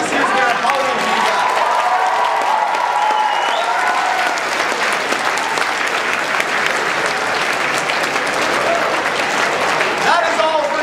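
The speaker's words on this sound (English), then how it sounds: "big round of applause for this year's winner, Holly and Higa." Audience applause at an idol performance finale at an anime convention, dense sustained clapping from a large crowd filling the whole stretch, with voices and cheers mixed in.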